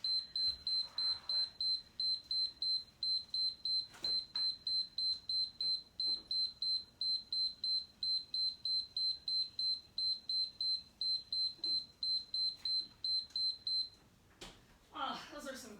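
A long run of short, high electronic Tabata workout timer beeps in a steady, fast rhythm, clear and close, ending abruptly before a brief noise.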